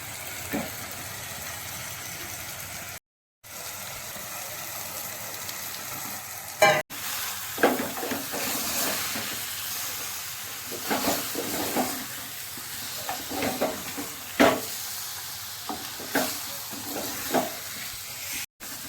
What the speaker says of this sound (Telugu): మసాలాలన్నీ చేప ముక్కలకు పట్టేటట్టు ఈ విధంగా కలుపుకోవాలి.